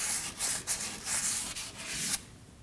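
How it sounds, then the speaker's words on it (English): Fine-grit sandpaper scrubbing the hub mating surface during a rear wheel bearing and hub replacement on a 2014-2023 Ford Transit Connect, a close, steady hiss of rapid back-and-forth strokes with no talk. "I'm now going to clean our mating surface using some fine grit sandpaper"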